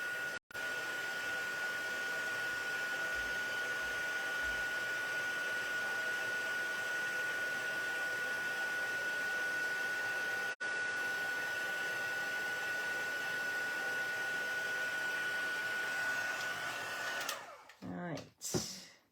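An embossing heat tool melting embossing powder in a craft card-stamping setting, giving a constant close blowing hiss with a steady whine that runs unbroken and then switches off near the end.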